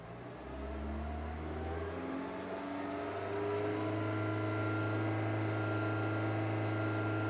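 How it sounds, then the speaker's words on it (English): A car engine is revved up to about 2,600 RPM during a check of long-term fuel trim, its steady mechanical drone rising in pitch and then holding at a higher pitch for several seconds, loud and close with no talking. "So the first thing I'm going to do is go ahead and rev the engine up and see what's going on."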